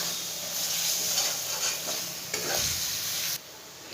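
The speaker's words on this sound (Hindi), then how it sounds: "तो सारे दाल के पेस्ट को डालकर और इस मसाले में भूनेंगे। तो मिला लेते हैं अच्छे से इसको।" Mung dal paste, the filling for khasta kachori, is stirred and fried in spices in a pan, giving a close, steady sizzle broken by scraping stirs with no talking.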